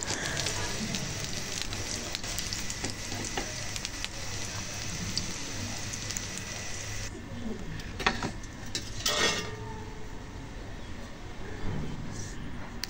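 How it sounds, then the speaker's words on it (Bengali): An egg fries in a pan with onion and turmeric, giving a steady crackling sizzle throughout, with occasional sharper pops and clinks of a utensil near the middle. "বেশি করে পেঁয়াজ দিয়ে আমি এই ডিমটা ভাজি করি, একটু হলুদ ফাঁকি দিয়ে"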